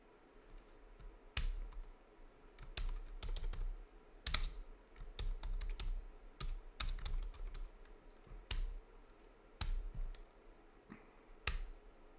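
Irregular bursts of clicky keystrokes on a computer keyboard, close and fairly quiet, with short pauses between typed runs and no talking.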